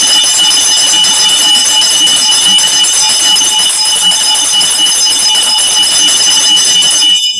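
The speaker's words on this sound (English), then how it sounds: "Let's ring a bell for her." A bell rung in tribute to Madeleine Albright after her death at 84 gives a loud, steady, sustained ringing tone that carries without a break and cuts off just before the end, with no talking.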